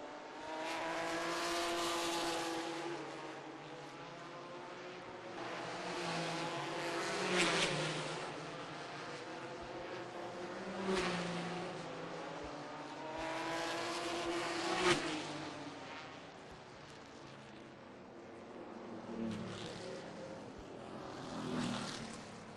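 Race cars in an ISCARS Dash series event circle an oval track at Lonesome Pine, their engines droning and swelling as they pass by in waves, heard from a distance.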